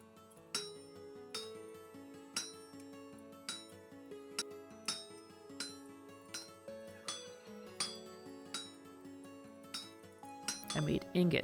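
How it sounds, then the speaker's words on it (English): Metallic hammer strikes knocking slag off an ingot in the game Vintage Story ring out in a regular rhythm, about one per second, each clanging and decaying against a steady background hum. "knock the slag off with a hammer and shape the ingot"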